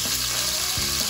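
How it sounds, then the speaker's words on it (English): Chicken browning in olive oil in a Dutch oven over medium heat, a brief steady sizzle close up. "And I'm just simply browning both sides of the chicken."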